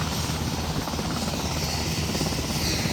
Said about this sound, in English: 2 Virginia State Police choppers here. At least 2 Tennessee military choppers here as well on the ground.